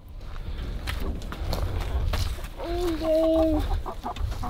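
Backyard chickens cluck around their coop, with scattered short calls and one clear drawn-out vocal note near the end, over footsteps, rustling and faint background voices.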